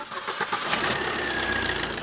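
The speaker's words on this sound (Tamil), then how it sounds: "இப்போ இன்ஜினை ஸ்டார்ட் பண்ணி இன்ஜினோட நாய்ஸ் எப்படி இருக்குன்னு கேட்கலாம்." A diesel car engine cranks and catches quickly, settling into a steady mid-pitched idle that runs on at close range without talk.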